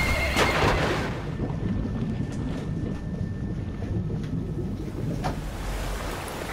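A horse whinnies in Metal Gear Solid V amid steady rain and wind, one high neigh near the start, then a long thin tone riding over the constant hiss and rumble of the storm.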